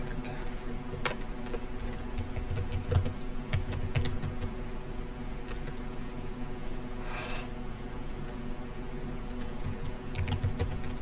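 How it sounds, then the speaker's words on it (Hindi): Someone types a name on a computer keyboard, a steady run of quick, light key clicks close by and fairly quiet, over a faint hum with no talking. "यहां पर हम नाम टाइप कर देते हैं।"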